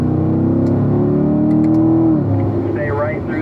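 A car accelerating hard on a race track after an upshift into fourth gear, its engine note loud and close, then dropping in pitch near the end, with a voice talking over it.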